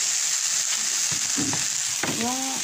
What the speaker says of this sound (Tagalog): So, ilagay na natin ang French beans.